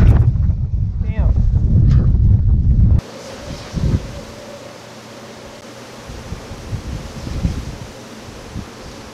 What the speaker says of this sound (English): It got insanely windy all of a sudden.